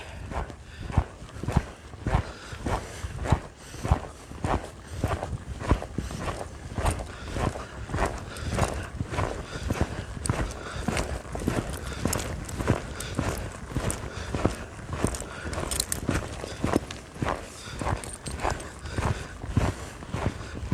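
Hooves of a horse ridden bridleless thud in a steady rhythmic clip-clop at a canter, close and clear, with occasional faint speech.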